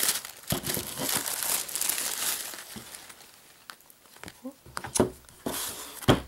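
Tissue paper crinkles and rustles as a Christmas mail package is unwrapped, in close, dense bursts of crackling that fade briefly and then pick up again near the end.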